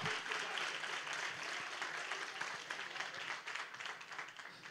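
A church congregation applauds during a sermon, a sustained crowd of hand claps that carries evenly at moderate volume, thinning slightly toward the end.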